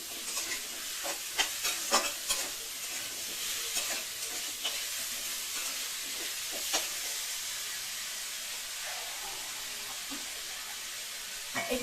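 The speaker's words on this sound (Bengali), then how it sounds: "কুমড়ো দিয়ে আমি কষাতে থাকবো।" Pumpkin stir-fried with melted tomatoes for a bhola fish curry sizzles steadily in a pan, with repeated sharp scrapes and clacks of a spatua stirring at close range throughout.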